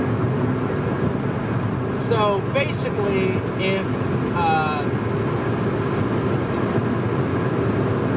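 A lowered 2000 Honda Civic Si EM1 at highway speed gives off a loud, constant roar of engine and road noise throughout, with someone talking briefly over it.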